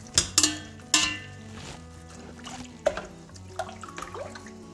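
Blanched spinach is dropped into a bowl of cold water, making a couple of sharp splashes near the start and then lighter drips and sloshes, close and fairly quiet.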